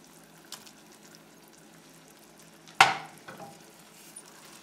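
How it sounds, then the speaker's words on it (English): Yogurt drops into a pan where a whole chicken is cooking Indian style, giving one sharp hissing sizzle that fades over a second, followed by faint stirring and a low, steady sizzle. "I've lowered the heat again, and I'm going to add rest of the ingredients now. In goes the yogurt."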